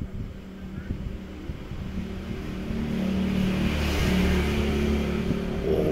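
Vehicles speeding past on a road in Thailand, a steady engine and tyre roar that swells louder in the second half as traffic rushes by close, with some speech mixed in.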